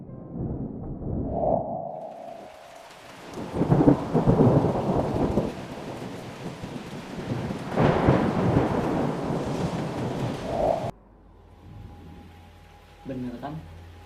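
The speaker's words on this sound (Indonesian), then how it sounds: "Bener kan? Hujan." Rain falls steadily while heavy thunder rolls and cracks in two big swells, loud and booming, before the storm noise cuts off and quieter sounds follow; people speak at points.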